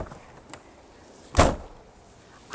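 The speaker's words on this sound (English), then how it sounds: "the doors on Newmar are slam latches, which is a good thing. You just slam them and they're closed." A Newmar Dutch Star motorhome door with a slam latch bangs shut once, a single loud close thud amid quiet surroundings, preceded by a faint click.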